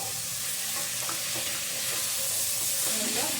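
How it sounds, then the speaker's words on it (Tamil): Beans, carrot and peas fry in a pan for Karnataka-style bisibela bath, a soft, continuous sizzle with scraping stirs that grows slightly louder toward the end, close and without talking. "நல்லா ஃப்ரை பண்ணிக்கலாம்."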